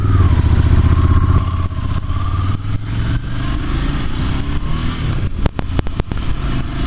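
Engine drone from a 2019 Ducati Monster 797 motorcycle while riding, a loud steady mid-pitched hum with wind rush that eases off after the first second, then a run of sharp clicks and knocks near the end.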